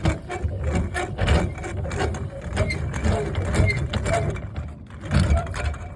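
A twisty bar turning the nut to raise the support legs of an ASH26e glider trailer, giving close, continuous grinding and creaking in a slow rhythm of turns.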